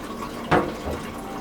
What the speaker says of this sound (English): And empty the water into the sink.